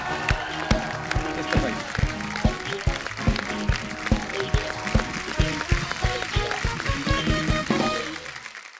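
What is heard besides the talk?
studio audience applause for a guest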